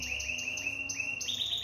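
A canary sings in quick, bright repeated trills and chirps, close and clear, one continuous phrase with no voices.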